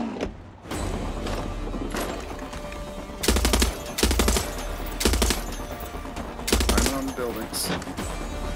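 Gunfire in the shooter game Far Cry 6, with several loud bursts of rapid automatic fire coming in clusters over a steady background rumble, while a person talks briefly.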